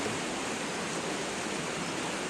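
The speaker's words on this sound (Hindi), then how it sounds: "हम लोग पहली बार नदी के इतने करीब पहुंच रहे हैं" A snow-edged river near Harsil valley, Uttarakhand, rushes in a steady, even hiss of flowing water, heard from close by and continuous without a break.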